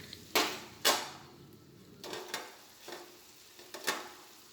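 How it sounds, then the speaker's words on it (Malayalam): Chopped onion with crushed ginger and garlic being sautéed in a pan for egg kurma, a soft sizzle under a few sharp scrapes and clinks of a spoon stirring against the metal. "ഇഞ്ചിയുടെയും വെളുത്തുള്ളിയുടെയും പച്ച ചുവ മാറുന്ന വരെ നമുക്ക് നന്നായിട്ടൊന്ന് വഴറ്റി കൊടുക്കാം"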